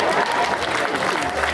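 Wedding guests applaud in a dense, continuous burst of clapping, loud and close, with crowd noise mixed in and no clear pauses.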